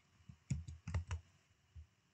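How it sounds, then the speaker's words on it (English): Typing on a computer keyboard: a short burst of several quick, close key clicks in an uneven rhythm, alone in a quiet room. "So I'm typing this one,"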